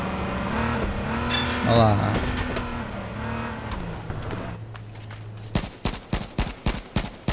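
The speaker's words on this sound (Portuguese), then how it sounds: "Aproveitar que o carro dele tá andando lento." Car driving in the H1Z1 battle-royale video game: an engine drones loudly and shifts pitch, then fades into a series of sharp rhythmic bangs near the end. Someone speaks briefly over it.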